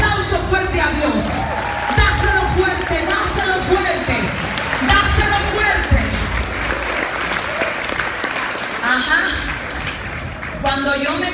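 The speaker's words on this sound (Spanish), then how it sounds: "Dale un aplauso fuerte a Dios." Congregation in a church service bursts into loud applause, mixed with cheers, whoops and crowd chatter, with talk and music-like tones weaving through the dense clapping across the whole stretch.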